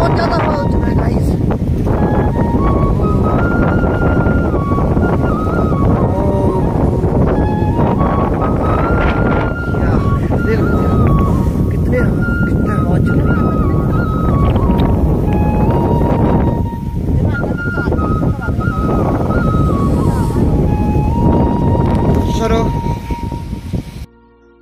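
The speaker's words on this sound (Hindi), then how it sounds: "ये बहुत ज्यादा हवा चल रहा है" A strong stormy wind blows hard across the microphone outdoors, making a loud continuous roar that never lets up. A voice can be heard faintly over the gusts.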